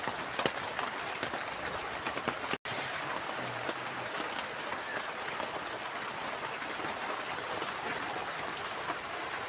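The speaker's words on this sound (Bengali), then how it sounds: "সকাল থেকে এত বৃষ্টি হচ্ছে, রান্নাই করতে পারছি না" Rain pours steadily in a Bengali village, a dense even patter and splash on surfaces that continues without pause.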